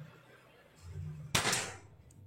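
A single sharp, snapping air rifle shot cracks out once against a quiet background with a low murmur, then fades quickly.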